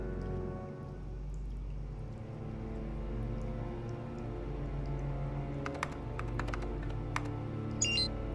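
Keys tapped on a keyboard to enter a password in the video game Heavy Rain, a few quick clicks in a short burst near the end over a steady low game ambience and rain-like hum.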